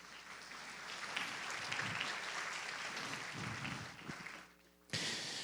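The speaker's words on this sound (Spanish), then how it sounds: "Fuerte aplauso para esa familia hermosa." Applause from a church congregation for a family during a Sunday sermon, a broad wash of clapping that holds steady, fades near the end and then cuts sharply to a burst of noise.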